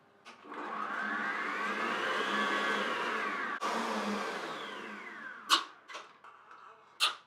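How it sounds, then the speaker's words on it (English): An electric whisk whirs steadily for several seconds while whipping a mixture toward stiff peaks for a gluten-free Mont Blanc dessert, its pitch slowly rising and falling before it stops, followed by a few sharp knocks. "So I'm just going to whisk this till it stands up in stiff peaks."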